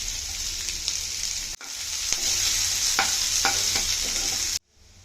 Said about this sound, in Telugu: ఈ వెల్లుల్లి వేగిన తర్వాత ఆనియన్స్ కూడా వేసుకుందాం ఆనియన్స్ కరివేపాకు